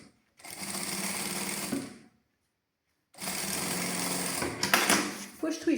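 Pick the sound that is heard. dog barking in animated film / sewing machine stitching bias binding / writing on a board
sewing machine stitching bias binding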